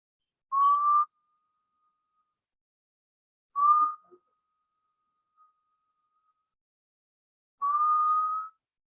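Three short whistled notes, each a steady tone rising slightly at the end, separated by long silent pauses.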